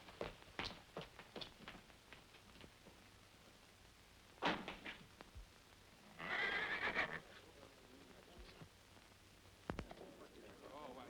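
Palomino horse whinnying in a brief loud burst around the middle, with scattered clip-clop hoofbeats and knocks before and after, set against quiet background.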